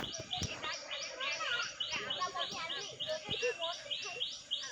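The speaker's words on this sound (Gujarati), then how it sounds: "એનો પક્ષીઓનો અવાજ આવે છે સિટીમાં તો અવાજ નહીં આવે" Birds calling in a quiet village, peacocks among them, with rapid repeated high chirps and tweets running steadily throughout at moderate distance, a few sharp clicks between.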